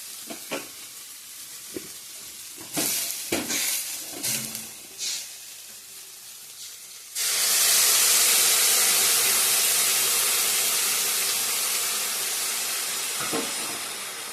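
Frying spice paste for banana flower curry crackles with stirring clatters, then water hits the hot pan and bursts into a loud, sustained hissing steam that slowly eases off.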